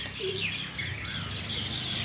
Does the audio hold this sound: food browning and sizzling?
no